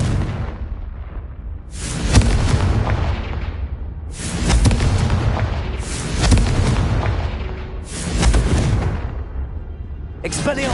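Four heavy booms from the Confringo fire spell in Hogwarts Legacy, each a sharp blast that rolls into a long, loud rumbling decay, spaced about two seconds apart over a continuous low background.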